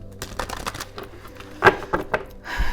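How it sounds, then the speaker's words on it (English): Tarot cards are shuffled by hand in quick riffling bursts and soft slaps, close and crisp, with brief pauses between runs and no talking. "give it one more shuffle"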